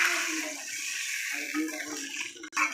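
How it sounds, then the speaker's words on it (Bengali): Water poured into a pan of potato, stem and vegetable curry after the spices are fried, a steady broad splashing and hissing pour running throughout at moderate level. "এবার জলটা দিয়ে দিচ্ছে।"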